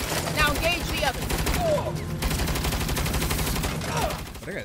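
Turret machine gun fire in Saints Row rattles loud and close in continuous rapid bursts, mixed with other game gunfire and effects, with a voice briefly heard.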